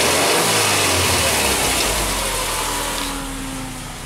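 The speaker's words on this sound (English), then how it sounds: "Massive exhaust leak." A loud Subaru engine with a massive exhaust leak revs with a raspy, puffing exhaust note, then settles and fades slightly toward the end, heard up close in a garage with no talking.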